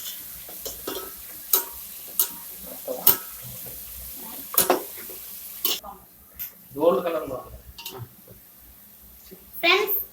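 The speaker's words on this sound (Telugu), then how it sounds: "ఇవన్నీ ముందు బాగా ఫ్రై అవ్వాలి" Spices frying in a pan for a Nellore-style fish curry, with scattered stirring scrapes and utensil clicks against the pot, plus a brief voice midway.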